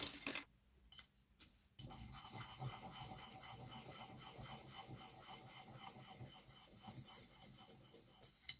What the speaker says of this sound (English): Get these gears filed.